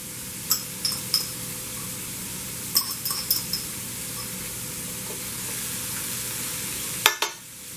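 Sausage and vegetables sauté in a pan for crockpot red beans, giving a steady close sizzle with a few sharp utensil clinks against the pan scattered through it and no talk.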